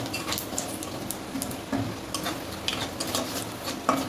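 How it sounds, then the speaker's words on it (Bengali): Cardamom, cloves and cumin seeds are stirred in a pan, with soft scraping and light clinks of the utensil over a faint sizzle, fairly quiet and close. "আর একটু যে এলাচ আর লবঙ্গ দিয়ে দিলাম, একটু সাদা জিরে। তো এটা নিয়ে একটু নাড়াচাড়া করবো।"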